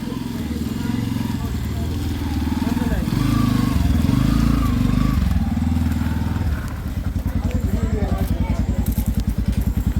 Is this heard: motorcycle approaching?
yes